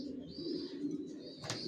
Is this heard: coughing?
no